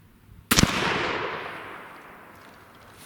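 A CVA Scout V2 takedown rifle chambered in .300 Blackout fires a single 208 grain ELD round. The shot is loud and close, a sharp crack followed by a long decaying rumble of echo.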